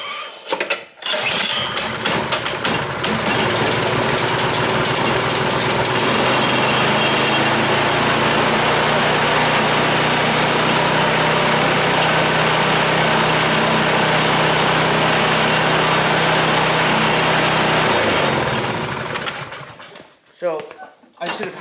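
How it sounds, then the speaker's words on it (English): A snowblower engine is pull started: a couple of short rope-pull bursts, then the small engine catches and runs loud and steady for about fifteen seconds before cutting off. "I'm gonna pull start this."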